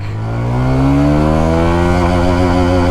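A QJ Motor SRV160 motorcycle revs hard in first gear, its engine note climbing steadily and loud from start to finish with no talk over it.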